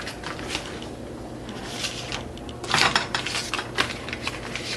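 A metal skillet clatters onto a stovetop burner set to medium, with a few sharp clanks and rattles close by, amid light kitchen clatter.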